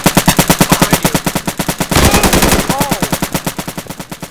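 Automatic rifle fire in the tactical shooter game Insurgency, loud rapid bursts of evenly spaced shots filling the whole span with a brief heavier blast in the middle, no voices.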